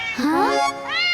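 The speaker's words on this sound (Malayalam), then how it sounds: "ഈ പൂച്ച കരയുന്ന ശബ്ദം എവിടുന്നാ വരുന്നത്?" A cat meows twice up close, a rising, drawn-out cry followed by a shorter, higher meow.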